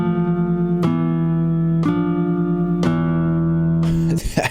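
Electric guitar riff in an exotic scale, loud and clear, with three sharp accented strums spaced about a second apart over sustained notes, ending on octave E's before a brief scrape at the close.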